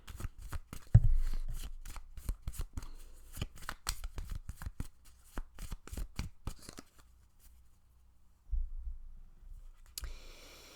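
Tarot cards are shuffled by hand in a rapid run of crisp, close riffling slaps and flicks for several seconds, then a pause and a couple of final soft taps.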